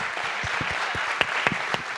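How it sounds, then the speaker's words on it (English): Steady applause from a panel-discussion audience, a dense wash of many hands clapping with a few sharper claps standing out. "Let's get a round of applause."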